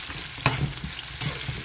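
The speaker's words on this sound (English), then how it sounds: "So sweat your onions maybe for 40 seconds." Onions sweating in a pan for dried salted fish escabeche, a close sizzle broken by a couple of louder stirring scrapes and clatters.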